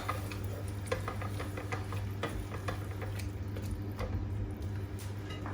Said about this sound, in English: Give it a mix.